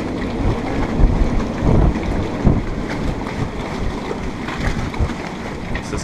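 Strong wind and rough water in a marina on Mykonos, Greece, make a continuous gusty roar with heavier surges as the water churns around the moored boats.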